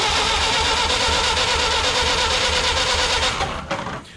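A 1928 Ford Model A Coupe engine cranks over and then runs with a loud, steady, rough mechanical chug close by, fading slightly at the very end.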